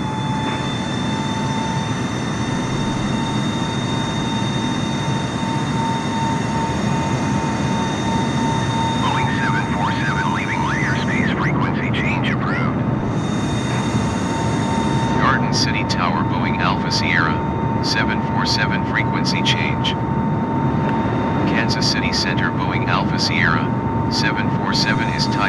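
Boeing 747 jet taking off, a loud continuous engine roar with a steady high whine throughout, while a faint background radio voice chatters intermittently.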